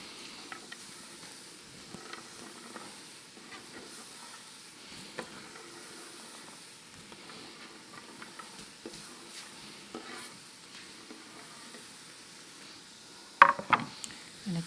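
Quebec pea soup stirred in a pot, soft scraping and gentle bubbling hiss at low level, with a louder clunk of the spoon near the end.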